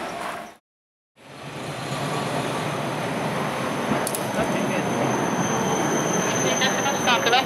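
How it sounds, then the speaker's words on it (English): A Kumamoto tram rolls past very close on street tracks, a loud sustained rumble with metallic wheel squeals and clanks building toward the end, following a brief silent gap at the start. "And now it's time to experience a Kumamoto tram."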